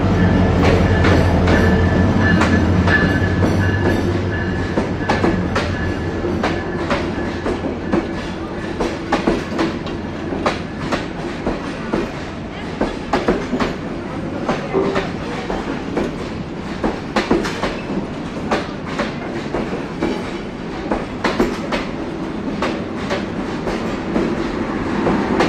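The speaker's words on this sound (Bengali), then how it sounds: "৩০-১৬ লোকোমোটিভ নিয়ে প্রবেশ করছে আন্তনগর রংপুর এক্সপ্রেস নাটোর রেলওয়ে স্টেশনের" Rangpur Express intercity train hauled by a locomotive numbered 3016 rolls into platform 1 at Natore railway station in Bangladesh, with steady loud rumble and rhythmic clickety-clack of wheels over rail joints throughout.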